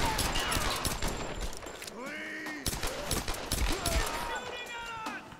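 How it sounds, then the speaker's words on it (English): A gunfire exchange in the Tomb Raider video game crackles as rapid bursts of shots, mixed with game effects and a player talking over the action. "I am shooting at you because you're shooting at me"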